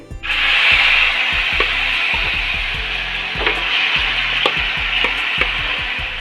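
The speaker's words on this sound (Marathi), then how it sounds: "थोडस परतून घेऊ एक दोन मिनटं" Grated carrots sautéed in a pan for carrot halwa, a loud steady sizzle with rhythmic scraping strokes of the spatula repeating about once a second, close and continuous, no voices.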